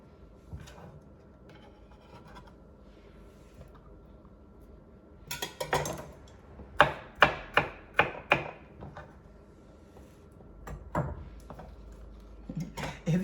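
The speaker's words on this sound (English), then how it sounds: "just giving them a rough chop. I'm not chopping them too small." A knife roughly chopping scallions on a board. A quick burst of close, rhythmic taps is followed by a few scattered cuts, with quiet pauses on either side.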